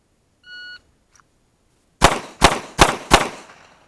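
Four sharp handgun shots fired at a target seven yards away, evenly spaced and loud, following a short electronic shot-timer beep at the start of the drill.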